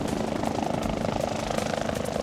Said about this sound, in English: We're going to land at the airport.